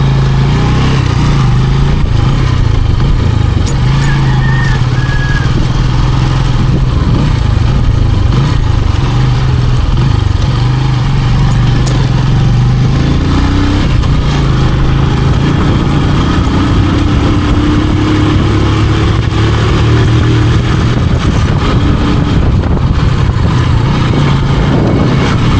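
Motorcycle engine running steadily on a Philippine road, a loud continuous drone with shifting pitch across the whole stretch, no talk over it.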